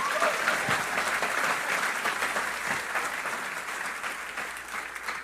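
A church congregation applauds, dense sustained clapping from many hands filling the room evenly from start to finish, fairly loud and close.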